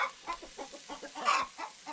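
Chickens cluck in a rhythmic series of short, mid-pitched calls close by, with one louder squawk partway through and no talk.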